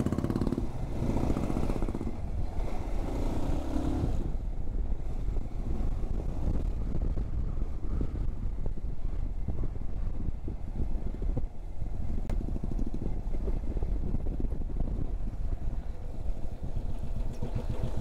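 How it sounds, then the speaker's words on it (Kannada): Group of about eight motorbikes riding together on a road trip, with a continuous close engine drone and heavy wind buffeting the microphone throughout. "ನಾವು ಬೆಂಗಳೂರು ಹೋಗೋರು ಎಷ್ಟು ಒಂದು 8 ಬೈಕು ನಾವು ಈ ಕಡೆ ಹೋಗ್ತೀವಿ"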